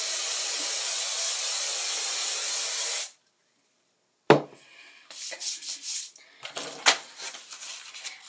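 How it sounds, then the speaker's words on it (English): A can of hairspray sprays a long steady hiss onto a cheerleading hair poof for about three seconds, then stops; after a short silence come soft rustling and rubbing sounds of hands handling hair nearby. "spray it."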